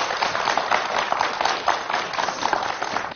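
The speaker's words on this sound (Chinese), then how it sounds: "来，我们掌声欢迎你入座" A studio audience claps to welcome a guest to his seat on a Chinese talk show, with steady sustained applause at close range filling the short stretch and no voices over it.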